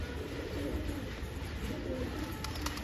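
Black thambral pigeons coo softly amid a dense wash of steady outdoor noise, the calls low and partly masked, with no talk.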